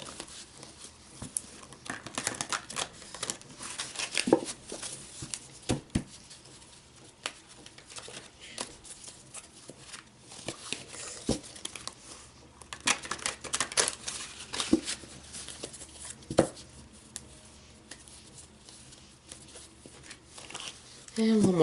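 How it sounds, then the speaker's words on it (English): Jumbo-sized tarot cards being shuffled by hand, giving soft repeated crinkly riffles and taps through a long stretch at low level, with a speaking voice at times over the handling. "bear with me as I shuffle these jumbo cards."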